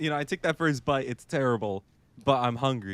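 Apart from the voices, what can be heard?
No distinct noise like a dog, phone or traffic.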